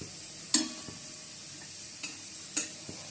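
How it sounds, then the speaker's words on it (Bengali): Dry red chilies frying in a pan, with a low steady sizzle under a few sharp clicks and scrapes from stirring, near and moderately quiet, with no talking. "শুকনো লঙ্কাটা ভেজে নিচ্ছি।"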